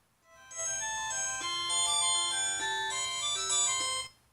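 A melodic ringtone plays on a Diggro DI03 smart watch, a bright chiming tune of stepped electronic notes lasting about three and a half seconds, clear and close with no talking.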